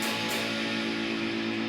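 A single distorted guitar chord with a 12-equal-temperament major third held steadily, buzzing with a harsh, slightly clashing jangle, fairly quiet and alone.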